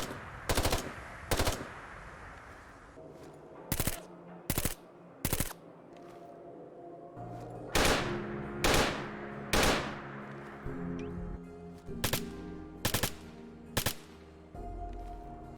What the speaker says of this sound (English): We also have the RU556 New Firing sounds,